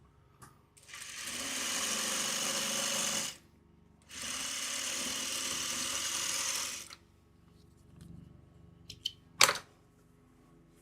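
A sewing machine stitches sashing onto a quilt block in two steady, loud runs of a few seconds each, with a short pause between them, followed by quieter handling clicks and a brief sharp snap.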